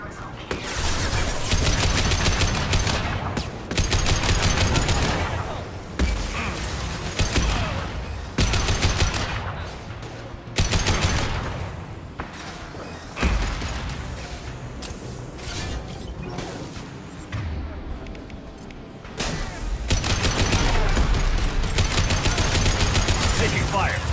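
Rapid bursts of automatic gunfire crackle through a Mass Effect 2 firefight, dense repeated volleys with short pauses and voices speaking now and then beneath the shooting.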